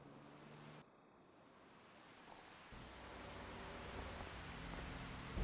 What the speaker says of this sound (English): Yeah, it's raining. Of course it's raining.